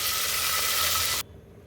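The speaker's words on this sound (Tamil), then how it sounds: "இப்போ தண்ணி சேர்த்துக்கிறேன்" A loud, steady sizzling hiss as water hits a hot pan of ground masala for little millet pongal lasts about a second before cutting off abruptly to quiet.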